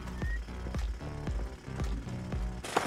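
Drill running in the co-op survival video game Once Human: a loud, rhythmic mechanical hammering rumble with regular heavy thumps under a low droning tone, continuous and close.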